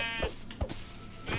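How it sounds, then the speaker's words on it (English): A Minecraft sheep bleats in short repeated calls, three close, clear bleats spaced across a brief moment with no talk. "I gotta kill 3 sheep so I can get a bed."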